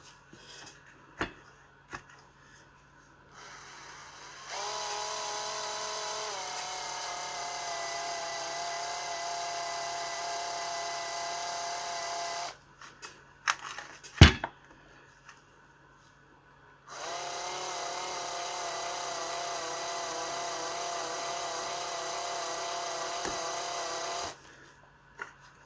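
A power drill spinning a wooden knob for sanding whirs in two long sustained runs, steady high-pitched motor whine separated by a quiet pause with a few clicks and knocks.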